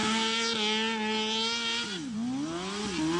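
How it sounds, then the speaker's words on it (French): A high-revving modified Honda racing lawn tractor engine screams loudly, holding pitch and then dropping and climbing again through gear changes, with no one talking. "Celui du tracteur tondeuse le plus rapide du monde."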